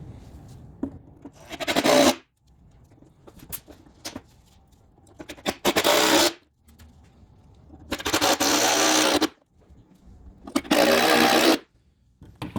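Power screwdriver driving the four screws that fasten a Ford Fiesta Mk5/Mk6 front window regulator to the door panel, heard as three loud whirring bursts of a few seconds each, separated by quieter handling clicks.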